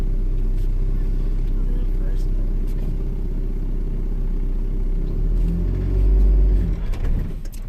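A car driven along a road, heard from inside as a loud, steady low engine and road rumble that swells briefly near the end, with brief voices in the background.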